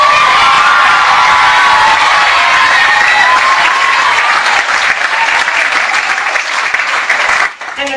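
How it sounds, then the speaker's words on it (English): An audience applauds and cheers for children after a stage performance, loud sustained clapping with shouts and whoops, steady throughout before dropping off near the end. "And a big round of applause for these kids who have been absolutely brilliant."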